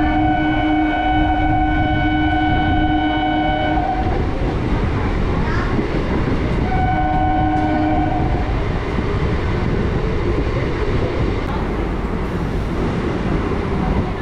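A local train from Kolkata to Belur Math gathers speed near Liliya station. A loud, continuous rumble of wheels and carriages runs throughout, with sustained tonal whines in the first half.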